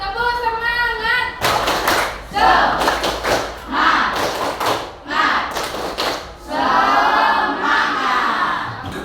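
A group performs the tepuk semangat, a rhythmic clapping chant: bursts of patterned claps and thumps alternate with shouted voices, loud and close, with a brief sung or spoken lead-in before the clapping starts.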